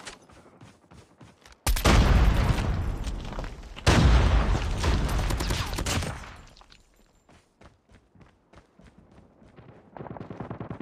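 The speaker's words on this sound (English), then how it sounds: "Grenade!" A loud grenade blast in Call of Duty Mobile multiplayer erupts around two seconds and a second burst hits near four seconds, each decaying over a couple of seconds between quieter footsteps and ticking game sounds.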